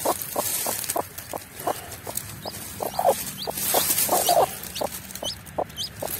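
A brood of fifteen newly hatched chicks from a hen that nested in the brush peeps steadily, with sharp, rapid, close chirps repeating in a quick irregular rhythm.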